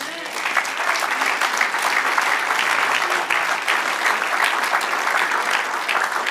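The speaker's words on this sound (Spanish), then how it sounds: "Dale un aplauso al Señor." Sustained congregational applause fills a church service, a dense, steady wash of many hands clapping at close range without a break.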